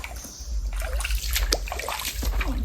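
A small stream splashes and trickles close by, an uneven babbling flow with small splatters over a steady low rumble of moving water.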